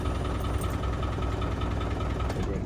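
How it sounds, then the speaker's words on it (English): A 1995 Land Rover Defender 90 with side exit exhaust idles steadily with a rough, throbbing hum, and an added mechanical whir comes in as the AC compressor engages. "You can hear the AC compressor kick on,"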